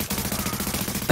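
Rapid automatic gunfire in the video game The Division rattles in a steady burst against the player, loud and close, ending in a heavier impact.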